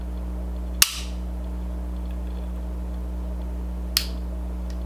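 Two sharp, crisp clicks come from an unloaded Sig Sauer P229 DAK pistol as its trigger is dry-fired, spaced about three seconds apart over a steady low hum.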